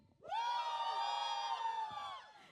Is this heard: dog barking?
no